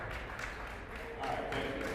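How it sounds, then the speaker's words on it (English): A table tennis championship audience gives modest, steady applause that swells slightly toward the end, blending into crowd murmur. "Let's give them some love. Come on, this is a nice applause."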